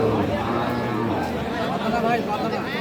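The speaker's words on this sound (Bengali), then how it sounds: "শাহিওয়াল বকনা" A Sahiwal heifer at a livestock market gives a low, drawn-out moo up close, while crowd chatter and voices continue throughout.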